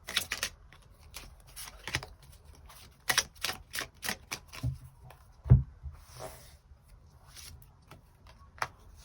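Tarot cards being shuffled and drawn by hand, quiet crisp riffles and light slaps in scattered bursts, close and soft, with no speech.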